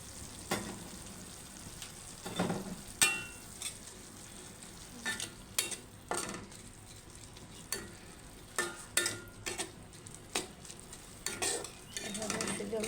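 Chepa shutki, dried fish, is fried with tomato, turmeric and chili powder while a utensil stirs and scrapes the pan in irregular bursts over a quiet, steady sizzle.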